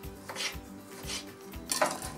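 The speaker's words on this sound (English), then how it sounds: "using the claw technique, you can cut it into easy, fine little ribbons" A kitchen knife chopping food into fine ribbons on a cutting board with the claw technique, steady rhythmic taps about every half second, close and quiet.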